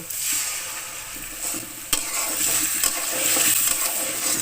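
Ground spice paste goes into a pan of lightly fried onions for a Bengali fish dopeyaja, sizzling and frying steadily while a utensil stirs and scrapes with a few sharp taps against the pan.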